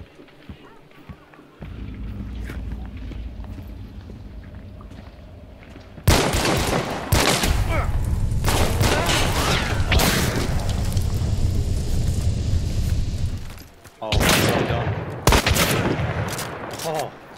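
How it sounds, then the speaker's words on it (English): Gunfire in the video game Hunt: Showdown, several loud sharp shots and cracks in quick succession over steady game ambience, with someone talking throughout. "the decision to push in and keep shooting after I knew I hit 2 shots"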